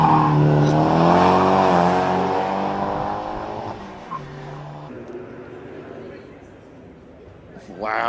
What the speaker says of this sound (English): we'll find a tiny little Fiat that's packing one heck of a punch on the start line